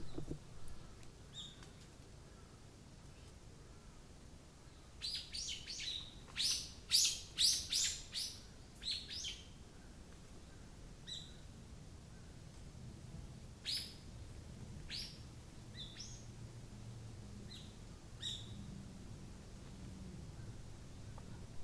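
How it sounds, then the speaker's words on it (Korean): Birds chirp and tweet outdoors on a hill in Jeju in autumn, in quick bright bursts, busiest early on, then sparser calls over a quiet, low rumbling background. "이 오름에서 처음 만난 소리는 정말 사람의 기분을 좋게 만드는 그런 새소리였는데"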